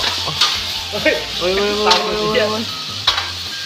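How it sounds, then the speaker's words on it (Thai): Vegetables sizzle in hot oil as they are stir-fried in a pan, with a steady hiss and a few scraping stirs and clinks close by, while a voice is faintly present underneath. "ผัดให้น้ำมันออกก่อน"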